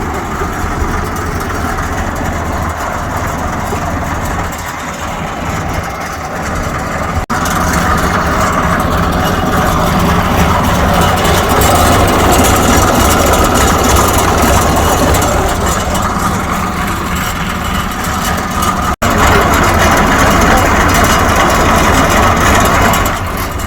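A Leyland 680 diesel bus engine idles in a steady, loud, rumbling drone heard from inside the bus near the rear, with a slight lift in intensity partway through and no talking.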